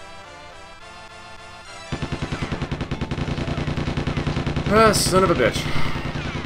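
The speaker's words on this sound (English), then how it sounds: "I have no idea what these guys are even firing at." Enemy soldiers fire rapid bursts of gunfire in the video game Goldfinger 64, a dense rattling stream of shots over game music, with a man cursing briefly during the shooting.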